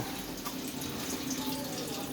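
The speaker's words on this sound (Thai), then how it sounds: "เปิดตรงนี้ก็รู้ว่าน้ำไหลน้อย" Weak trickle of water from a tap feeding a Samsung washing machine, a thin continuous splashing hiss, close and steady for a brief moment.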